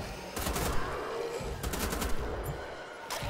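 Rapid gunfire from guns in the shooter game Wolfenstein: The Old Blood, a steady stream of loud, close shots running for about three seconds with no talk.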